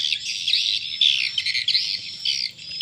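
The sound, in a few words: swiftlet lure call recording ST Rajawali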